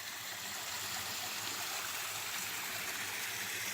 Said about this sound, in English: A lot of little waterfalls.